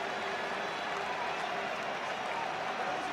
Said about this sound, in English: if ever a round of applause was deserved, it's Wigglesworth there